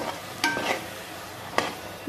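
Cooked chana dal mixture is stirred into melted jaggery in a pan, producing a few distinct scraping, squelching strokes over a soft background sizzle.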